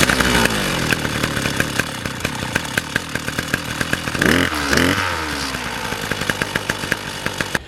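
A Husqvarna petrol brush cutter is pull-started and settles into a loud, close two-stroke idle, a rapid buzzing putter with a brief rev surge in the middle, and no one talking.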